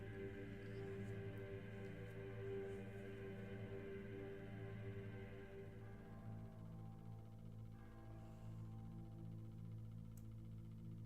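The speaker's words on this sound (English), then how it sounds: "Listening to the Gregorian chant." Sustained, droning choral voices of Gregorian chant with steady harmonic tones, continuous and even throughout, no talking.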